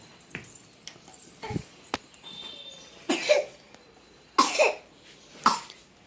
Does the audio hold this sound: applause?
no